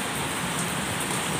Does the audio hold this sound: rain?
yes